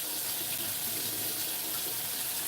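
Kitchen tap water running steadily while broccoli is rubbed and washed under it for juicing, a continuous close hiss and splash with no talk.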